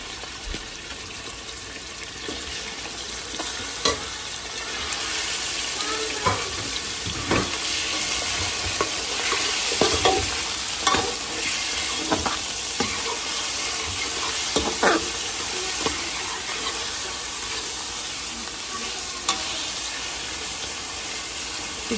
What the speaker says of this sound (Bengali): চিকেন একটু ভালো করে ভেজে নেবে